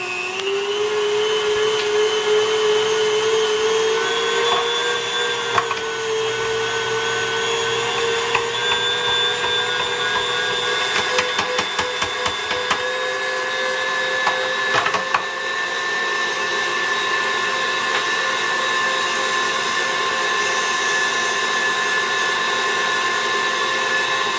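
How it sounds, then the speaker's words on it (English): A meat grinder runs continuously while grinding duck meat for pâté, giving a steady motor whine that shifts slightly in pitch, with scattered small clicks and knocks around the middle. "Okay, and the grinding is complete."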